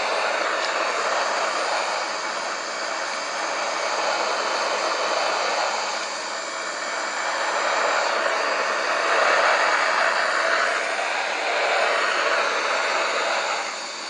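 An Airbus A330 in Microsoft Flight Simulator flies past Seattle, Washington, with a steady, loud broadband engine and airflow roar that swells and eases slightly, continuous and without talk.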